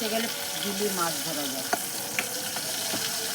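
A fish head fries in oil with a low, even sizzle and a few sharp pops and spits, while a voice talks faintly over the cooking in the opening moments.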